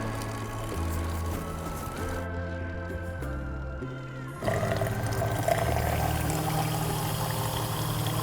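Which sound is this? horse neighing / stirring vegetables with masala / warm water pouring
warm water pouring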